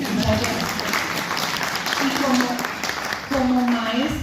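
Applause from an audience at an informational assembly during a national strike, a steady broadband patter running the whole time with a voice speaking over it.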